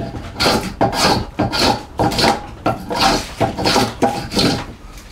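Hand plane taking thick shavings along a wooden rear stile for a chair, heard as a series of about seven rhythmic rasping strokes, close and fairly loud, with no talking.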